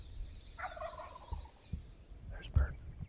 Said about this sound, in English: First bird gobbling on the limb. Doesn't sound like it's that far away.